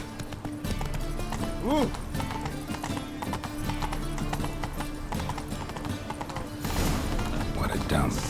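Roach, a horse in The Witcher 3, gallops with steady, close clip-clop hoofbeats and a brief whinny, over game music and ambience, with a short vocal exclamation.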